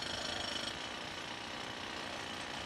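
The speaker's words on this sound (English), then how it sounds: "His drill weighs 45 kilos." A heavy 45-kilo handheld drill hammers continuously on the outer columns of a tower being prepped for demolition, a loud, dense, steady mechanical roar from start to finish with no voices.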